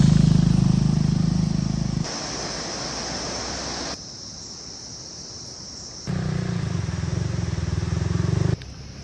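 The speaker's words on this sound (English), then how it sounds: "Quite a few motorbikes and jeeps passing me" Steady roadside traffic noise on the Annapurna Base Camp trek in Nepal rises and falls as motorbikes and jeeps roar past one after another, with a high insect-like whine running throughout.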